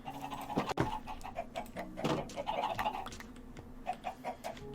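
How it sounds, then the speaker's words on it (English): Chickens clucking in the video game Minecraft during a modded survival session: repeated short, soft clucks and chirps scattered across the moment, moderately close, with faint clicking and no talking. "Them chickens are doing my head in."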